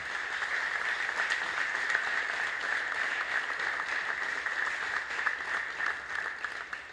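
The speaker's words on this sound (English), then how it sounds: "Give these guys a big round of applause again" Crowd at a Florida fire department award ceremony applauding the firefighters, a steady, even wash of many clapping hands, moderately distant and soft, sustained for several seconds without pause.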